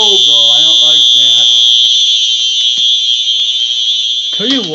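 A Simplex smoke alarm blares a loud, continuous high-pitched tone during a home test, with someone speaking over it at the start and again briefly at the end.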